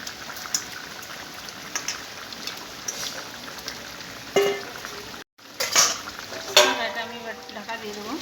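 Tilapia fish frying in an oiled pan with a cooked vegetable curry and chui jhal, a steady crackling sizzle with sharper spatters near the end after a brief drop-out.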